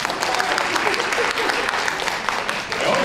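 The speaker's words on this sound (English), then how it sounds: "I always appreciate getting applause." An audience at a college speaker series event applauds in a brief, dense burst of clapping, with a voice faintly starting under it near the end.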